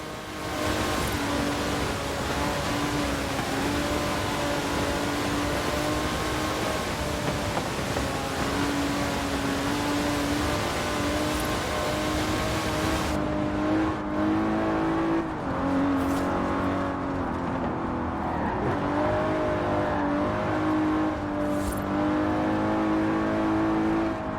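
Aston Martin engine in the racing game Forza Horizon 4, a steady, loud drone that holds a constant pitch for the whole stretch, with a slight shift in tone partway through, and no talk over it.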